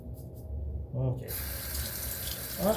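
A bathroom sink tap turned on to rinse off after shaving with sandalwood shave cream, quiet at first, then a steady close hiss of running water.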